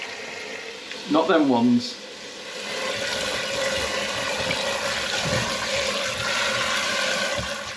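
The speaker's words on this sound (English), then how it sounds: "I'm going to wash my plums." Victoria plums are washed under steady running tap water in a kitchen, a continuous close splashing rush that follows a short spoken phrase.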